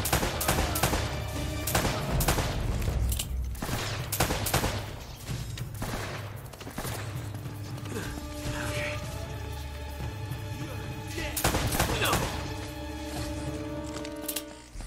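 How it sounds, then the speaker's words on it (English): Video game Uncharted: Drake's Fortune gunfire crackles in dense bursts and rapid fusillades, loud and continuous, with automatic weapon rattles layered over game sounds. "Who the heck is shooting already?"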